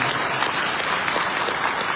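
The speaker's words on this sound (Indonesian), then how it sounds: "coba tepuk tangan sekali lagi." Audience applause at a live Indonesian talk or performance, steady, full clapping from a large crowd that holds at an even level throughout.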